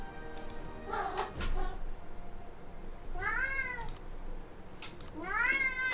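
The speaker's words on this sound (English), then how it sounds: "Apologies if you can hear my cat." A house cat meows twice, clear rising-falling cries spaced a couple of seconds apart, close to the microphone over a quiet room with faint clinks.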